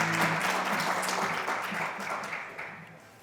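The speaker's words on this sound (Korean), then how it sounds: "여러분 큰 박수로 맞이해 주시기 바랍니다." Applause from the audience at a Korean national energy conference as a nuclear research presenter is welcomed, a steady wash of many hands clapping that fades gradually over about three seconds, with no talk.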